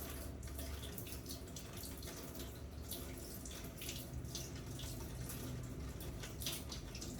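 Tap water runs in a steady, faint splashing stream over a freshly filleted piece of fish being rinsed in a kitchen sink, with no voices.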